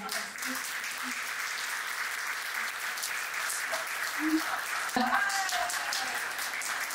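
Sustained audience applause at a fashion industry panel in a hall, steady dense clapping throughout at moderate level, with a faint voice near the end.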